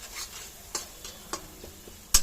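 Spices (turmeric, chilli powder) and onions are stirred in a pan, giving a quiet low sizzle with several sharp scraping clicks from the spoon at irregular intervals, the last one loudest.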